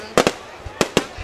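Fireworks launch and burst in a Vietnamese display, giving four sharp, loud pops in two quick pairs with softer thuds between them.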